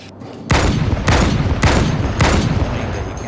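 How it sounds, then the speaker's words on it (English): Gunfire in the video game Halo 2: Anniversary: four loud, heavy bursts of shots about half a second apart, each booming broadly over a constant battle din, with no talk. "Shooting!"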